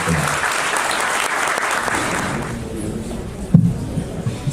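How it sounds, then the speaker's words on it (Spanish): Audience applause at a police congress event, a dense steady clapping from a crowd that fades off after a few seconds, with a brief bump near the end. "nuevamente un aplauso por ese esfuerzo de todos los policías"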